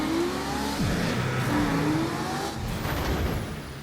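A Decepticon soldier in vehicle form from Transformers: War for Cybertron drives along with a continuous loud engine roar and shifting revs, ending in a high tire squeal near the finish.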